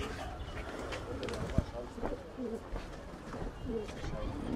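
Soft coos from several breeds of pigeons in a breeding loft, along with other bird calls, blend into a busy background, with low voices talking underneath.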